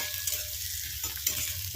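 Onion frying in a pan gives off a steady, close sizzle with a few light stirring clicks. No voices are heard.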